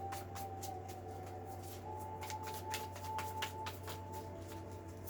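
A deck of tarot cards is shuffled in a run of soft, quick riffling flutters over a low steady hum, faint and close.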